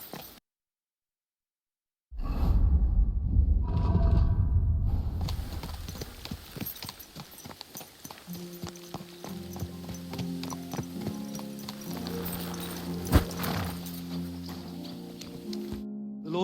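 Horse hooves clip-clopping in a steady rhythm as a horse is ridden in the video game Kingdom Come: Deliverance II, preceded by a brief whinny and joined later by a low droning tone.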